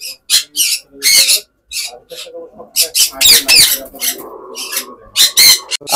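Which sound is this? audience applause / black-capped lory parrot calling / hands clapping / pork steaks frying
black-capped lory parrot calling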